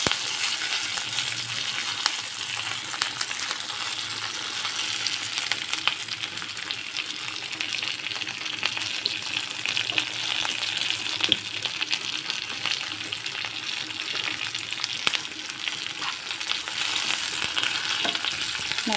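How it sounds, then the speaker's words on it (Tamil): Shallots and curry leaves sizzle and crackle steadily in a hot pan for a kulambu, with constant close frying hiss and occasional stirring scrapes, no voices. "நல்லா வதங்கட்டும்."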